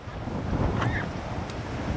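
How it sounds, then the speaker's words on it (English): Steady gusting winter wind roars across the microphone outdoors near ducks, a low continuous rumble with no voices. "She's getting windy."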